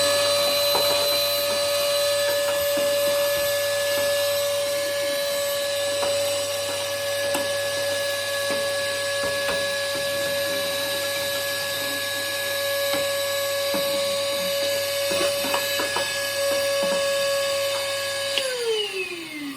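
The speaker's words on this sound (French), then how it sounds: "on prend l'aspirateur, ça de côté, et on va venir aspirer à l'intérieur du poêle" A vacuum cleaner sucks ash from inside a wood stove, running continuously with a steady whine, its pitch shifting as debris rattles and clicks through the hose, then the motor winds down.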